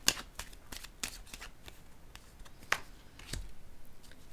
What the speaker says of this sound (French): Je vais déposer une carte ici.